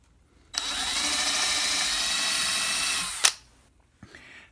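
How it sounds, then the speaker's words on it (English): A single steady burst of a power drill pre-drilling a screw hole in wood, spinning for about three seconds, close and loud, ending with a sharp clack. "now I'm just going to go ahead and pre-drill these holes to be able to accept the screws"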